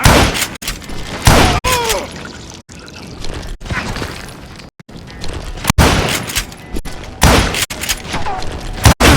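Gunfire in the Western shooter Call of Juarez Gunslinger arrives as loud, sharp bursts and booms in quick succession, separated by brief silent gaps, with shouted voices and game music mixed among the shots.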